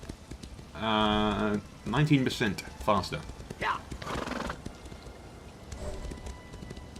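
A horse neighs loudly in the Elder Scrolls Online video game amid hoof clatter, with someone talking over parts of it.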